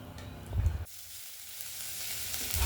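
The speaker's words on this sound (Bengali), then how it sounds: "তেলের মধ্যে দিয়ে দিল মা শুকনো লঙ্কা, ফোড়নে আর হচ্ছে গোটা জিরে ফোড়নে" Whole cumin seeds and dried red chillies tempering in hot oil for a home-style moong dal. A close, steady sizzle, with a brief louder stirring burst early on and no voices.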